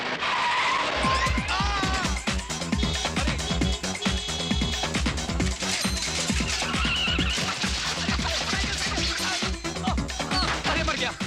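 A car drives fast with tires squealing and the engine roaring, loud and close, layered over music with rhythmic beats throughout.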